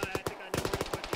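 A PKM heavy machine gun fires in Arma, a fast regular string of roughly ten heavy rounds with a short gap partway through, fairly close and punchy.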